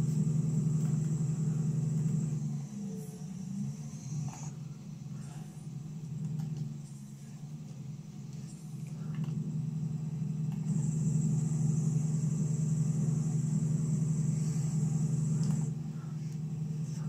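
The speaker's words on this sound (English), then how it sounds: "We are gonna catch that car." A car engine rumbles steadily through a race, holding a deep, continuous drone that dips briefly and then swells again, loud and close throughout.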